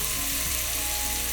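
Chopped garlic lands in a hot pan and sends up a loud, continuous, even sizzle that stays close and steady for the whole moment, with no voices.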